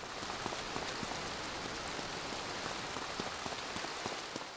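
Steady rain falling in the video game Grand Theft Auto III, a dense continuous patter of drops on surfaces with scattered sharper splashes, even and unbroken, with no talk.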